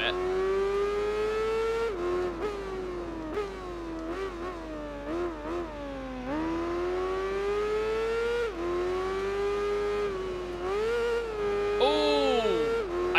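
Superbike 1000 engine in the Tourist Trophy racing game, revving hard and steadily through a failed wheelie attempt, its tone rising and falling with throttle changes and ending in a quick upward whine, loud and continuous without talk.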